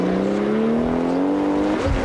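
A race car pulls away from a pit stop at the Las Vegas Speedvision Cup round after a stop-and-go penalty, its engine note climbing steadily in pitch as it accelerates, loud and close, with no talk over it.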